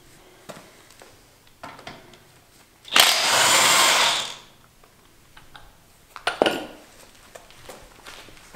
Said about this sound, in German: Da braucht man nur die beiden Schrauben hier mit einer 18er Nuss abschrauben.